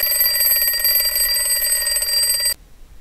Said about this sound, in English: Holy crap, that's my alarm.